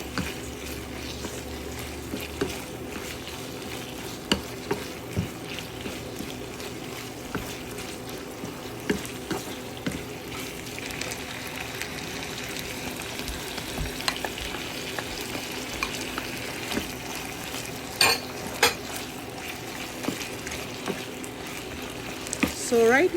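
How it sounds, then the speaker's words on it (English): Meat and onions frying in hot oil, a steady low sizzle with occasional stirring scrapes, fairly faint and continuous throughout, with a little background noise. "I began to fry the meat."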